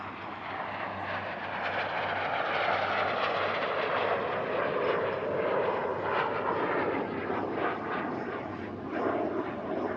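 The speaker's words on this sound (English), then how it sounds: "This is a CL-13B Sabre, the Canadian license-built version of the F-86." Canadair CL-13B Sabre, a Canadian license-built F-86 early jet fighter, roars steadily at an airshow at Paris-Villaroche, a loud continuous broadband jet rumble and whine sustained without a break.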